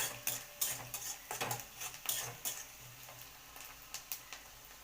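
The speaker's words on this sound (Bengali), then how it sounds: "ওই তেলের মধ্যেই উপকরণগুলো দিয়ে নাড়াচাড়া করে নিতে হবে" Ingredients being stirred in oil in a pan for a taro leaf and prawn dish. Quiet, with repeated scraping strokes and soft clinks in an uneven rhythm over a faint low sizzle. No one speaks.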